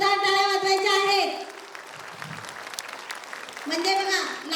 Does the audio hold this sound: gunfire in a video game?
no